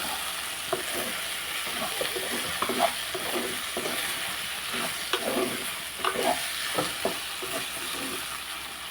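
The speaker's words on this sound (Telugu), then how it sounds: "పోపు తీస్తున్నానండి పోపు తీసి" Spices crackle and fry in hot oil while a spoon stirs and scrapes the pan in irregular strokes, a steady sizzle underneath.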